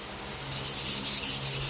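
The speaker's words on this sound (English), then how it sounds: "sanding pad. It's a scuff pad." Hand sanding of a car body with a scuff pad, a close, raspy rubbing that swells into several quick rhythmic back-and-forth strokes.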